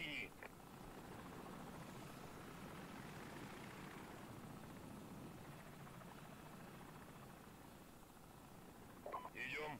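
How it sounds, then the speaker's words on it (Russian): A helicopter in Call of Duty 4: Modern Warfare drones steadily with a low rotor thrum, moderately distant and constant, with brief game sounds at the start and end and no talk over it. "Да, вертушка, я знаю."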